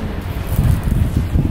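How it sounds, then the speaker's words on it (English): Gusty wind buffeting the microphone outdoors at an RV resort, a low rumbling roar that rises and falls in bursts. "It's kind of windy out here."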